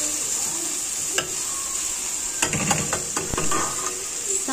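Beans with tomato cook over a medium gas flame, a steady hiss of sizzling under occasional clinks and stirring scrapes, close and fairly loud without speech.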